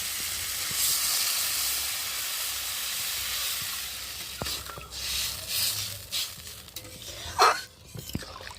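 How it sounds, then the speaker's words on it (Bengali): Loud steady sizzling in a hot pan of potato, eggplant and pabda fish gives way to bubbling and spluttering as water is added; scattered clinks and scrapes come near the end. "তো চলো এখন আমি জল দিয়ে দেবো"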